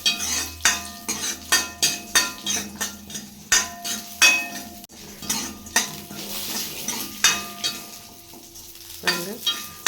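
Three unpeeled garlic cloves fry in a spoonful of oil for a pepper-tomato thokku, a soft sizzle punctuated by repeated rhythmic clinks and scrapes of a metal spoon stirring the pan.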